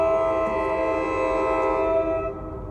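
A passing train sounds a loud, sustained multi-tone horn blast that holds steady for about two seconds and then fades off.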